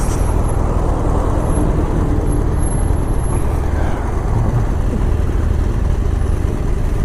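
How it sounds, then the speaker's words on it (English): Steady low engine drone and road rumble fill the cabin of a moving car in city traffic, continuous and fairly loud with no talking. "I hear the engine more."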